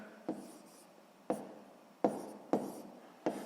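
Chalk or pen strokes writing out a sixth-grade math solution with fractions, a few short scratchy marks separated by brief pauses, close and fairly soft, with no talking.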